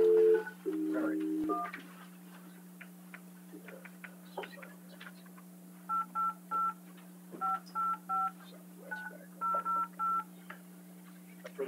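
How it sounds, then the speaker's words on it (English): A telephone keypad sends crisp DTMF dialing tones in quick bursts of a few beeps each, over a steady electrical hum in a meeting room, with faint beeps and clicks at the start. "we're dialing the phone so that the general manager and general counsel of the Southwestern District can chime in."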